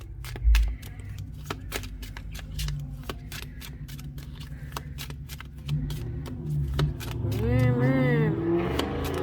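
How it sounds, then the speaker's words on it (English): Car engines rev and roar outside, rising toward the end, alongside sharp clicking sounds and some talking. "I didn't know they were going to be all revving up."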